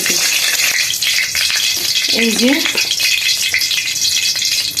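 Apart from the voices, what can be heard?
frying in hot oil in a pan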